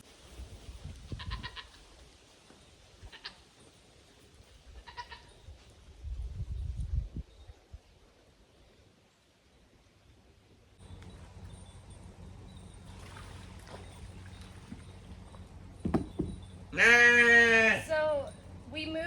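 Sheep and goats bleat on a farm, a few faint distant calls early on, then after a quiet stretch a loud, close, wavering bleat near the end over a low background hum.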